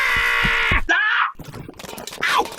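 In an audio play, people shout and scream off stage in short, loud, strained bursts, broken by a brief silence before more wailing voices.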